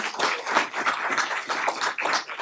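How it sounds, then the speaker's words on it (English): Applause from an audience at a school board meeting, a dense run of many hands clapping steadily for a couple of seconds with no talk over it. "I'm going to ask you to clap one more time"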